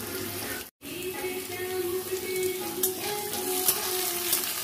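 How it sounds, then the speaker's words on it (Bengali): Potatoes frying in a pan for a Bengali rice and banana-flower dish, a steady close sizzle that carries on after a brief dropout near the start. "আলুটা তো লাল লাল করে ভাজা হয়ে গেছে"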